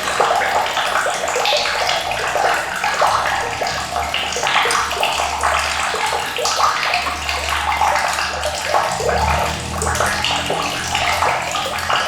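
Heavy rushing, swirling water churns steadily in a whirlpool inside a plugged sewer manhole being cleared with a drain snake, a loud continuous wash with a low rumble underneath and no voices.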